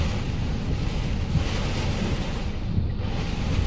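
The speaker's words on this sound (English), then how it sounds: "we've got another gust coming through now" Strong gusts from Tropical Cyclone Debbie in 2017 roar across an open area, a loud continuous rush of wind buffeting close to the microphone.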